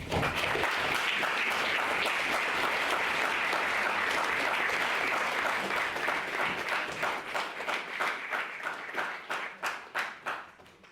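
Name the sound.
audience applause after a debate speech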